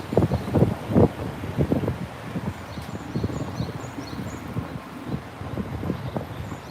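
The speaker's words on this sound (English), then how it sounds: "the wind just picked up" Wind blows outdoors in Tokyo's Shirokanedai neighborhood, gusting in uneven rumbling bursts against the microphone throughout.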